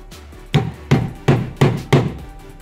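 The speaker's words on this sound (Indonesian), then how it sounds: "Ya setelah itu kita paku." Five sharp hammer strikes on a nail, evenly spaced about a third of a second apart, each a solid wooden thud with a short ring, close and loud.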